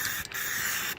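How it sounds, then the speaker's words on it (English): Instant tyre repair spray hisses in one steady burst onto a worn tyre in a backyard, with brief dips near the start and end. "Look what I have, some instant tyre repair. Check this out, just quickly spray it on"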